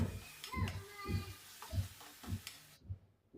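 Ground masala paste for a mandeli fish curry being sautéed in a pan, with repeated rhythmic stirring scrapes over a low sizzle, close and moderately loud, ending abruptly.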